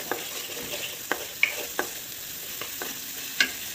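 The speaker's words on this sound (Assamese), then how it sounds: "এতিয়া অকণমান ভাজি ল'ম।" Masala sizzles in a pressure cooker pot for veg pulao, a soft steady frying hiss broken by a handful of light scraping stirs and spoon taps.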